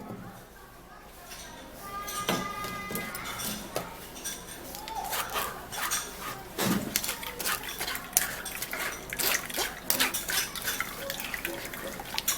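Blended cucumber drink being strained into a bowl brings clinks and scrapes of a strainer and utensils against the bowl, with liquid sounds underneath, all under a person talking.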